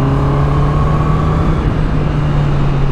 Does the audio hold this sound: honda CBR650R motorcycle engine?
yes